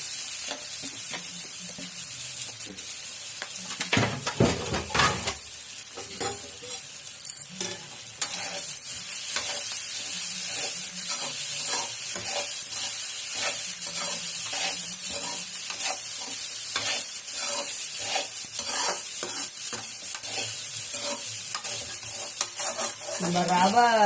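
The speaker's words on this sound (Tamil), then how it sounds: "இட்லி உப்புமா உதுத்து வச்ச உப்புமாவை இட்லியை கொட்டிடணும்" Crumbled idli upma tipped into a hot pan and stir-fried, with a steady loud sizzle and repeated scraping stirs of a utensil against the pan, close up throughout.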